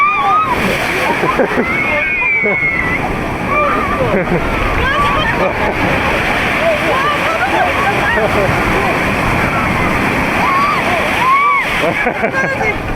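Ocean surf at Jungmun beach on Jeju, a loud, continuous wash of breaking waves and splashing water close by, with people talking and exclaiming throughout.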